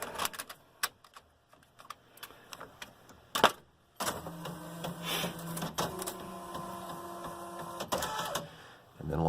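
An older inkjet printer prints decals in white ink, giving mechanical whirring, clicking and carriage shuttling that grows louder and steadier after a quieter start with scattered clicks.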